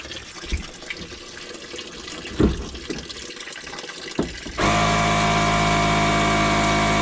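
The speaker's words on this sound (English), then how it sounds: "I'm going to recharge the vessel just to pump out the water." Water being pumped out of a plumbing expansion vessel during recharging. After a few clicks and knocks, a loud, steady hissing rush starts suddenly and keeps going, close by, with no speech.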